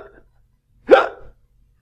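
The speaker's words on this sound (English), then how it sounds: "those are hiccups." A single sharp hiccup sounds close and loud after a brief murmur, followed by silence.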